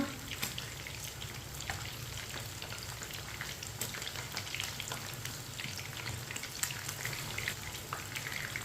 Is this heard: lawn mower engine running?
no